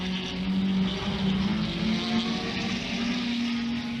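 Vintage Grand Prix race cars at the 1961 New Zealand Grand Prix, running on a hilly, narrow circuit: a continuous loud engine drone with a steady rising pitch, several cars blending together with no talk.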